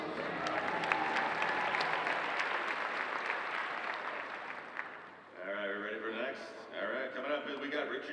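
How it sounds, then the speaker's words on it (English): A crowd at the Planet Comicon 2018 cosplay competition gives a contestant a broad round of clapping and cheering. Partway through, an announcer begins talking over the fading applause. "Round of applause"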